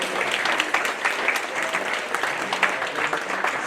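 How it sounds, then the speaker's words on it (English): An outdoor crowd at a charity walk bursts into sustained clapping, a dense, even patter of many hands carrying on throughout. "give yourselves a round of applause because this is an incredibly important cause"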